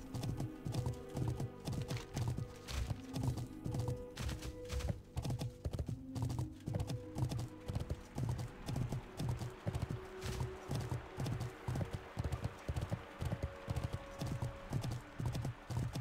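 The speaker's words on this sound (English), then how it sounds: "Now I got those proper foot stomps of the horse." Horse hooves clop in a steady, even rhythm throughout, mounted travel through Felwood in World of Warcraft: Wrath Classic, with game ambience and occasional tonal cues underneath and no talking.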